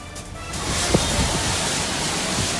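After an earthquake, water from a rooftop infinity pool pours down the side of a tall residential building, a broad steady roar of rushing water heard fairly loud and continuous, with no voices.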